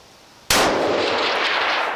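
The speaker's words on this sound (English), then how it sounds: "a lot of muzzle blast, though. It's pretty loud." A single sharp shot from a rifle fitted with a muzzle brake cracks loudly and close, followed by a broad, lingering muzzle blast that rings out for over a second.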